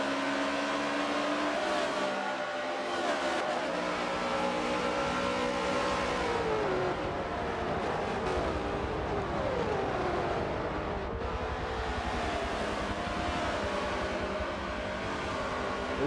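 Race cars in the video game Wreckfest, driven in an esports race at Monza, make a continuous loud roar of engines revving and shifting as several cars pass close together, with no talking.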